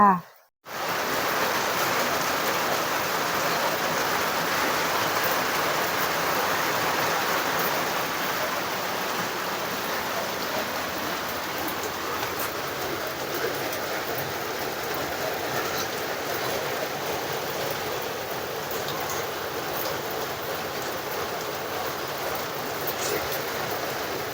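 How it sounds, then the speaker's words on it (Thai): Steady rain falls at home as a dense, even hiss that continues for over twenty seconds with little change in level, heard without anyone talking. "ก็จะได้รับสายฝนที่สดชื่นเช่นกันนะคะ"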